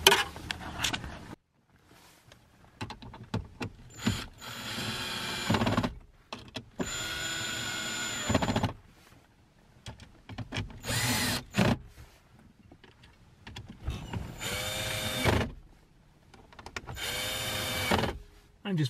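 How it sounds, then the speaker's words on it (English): A power driver running in six screws while fitting a Garmin dash cam into an Impala's dash, several short buzzing bursts separated by quiet pauses, close and fairly loud. "So I'll put in the 6 screws."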